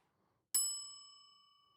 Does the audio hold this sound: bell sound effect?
yes